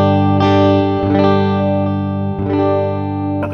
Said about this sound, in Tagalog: Ganito yung tunog niya pag hindi naka-on yung pedal.